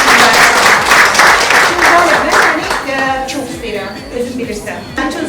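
Applause from an audience at a Faberlic sales event in Azerbaijan, steady and full for about three seconds, then fading as a voice speaks over the thinning clapping.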